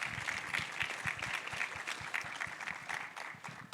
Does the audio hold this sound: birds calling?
no